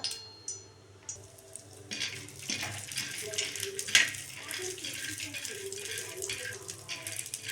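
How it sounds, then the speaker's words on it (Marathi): Shelled peanuts roasting in a little oil in a pan, with metal clattering and scraping as they are stirred and a soft sizzle building underneath, close and continuous. "थोडंसं तेल टाकून तव्यामध्ये आणखीन एकदा तेलात दोन मिनटं भाजून घ्यायचं आहे शेंगा"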